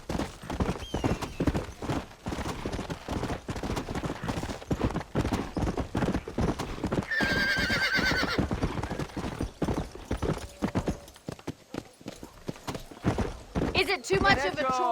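Horse hooves clip-clop in a steady galloping rhythm throughout a ride in the Western video game Red Dead Redemption, with a neigh or two, cattle sounds and people talking over the riding.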